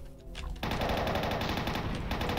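A rapid, steady burst of chain gun fire in the Doom megawad JUDGMENT, loud and continuous after a brief quieter moment, with each shot in a fast mechanical rhythm and no talk over it.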